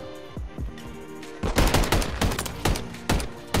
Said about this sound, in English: Yeah, I was shooting at them both.